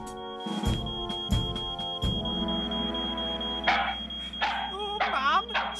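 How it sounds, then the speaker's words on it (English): A fire alarm rings at a supermarket in an animated show, a steady electronic tone broken by sharp pulsing beeps, with voices speaking over the later part. "Another false alarm for sure."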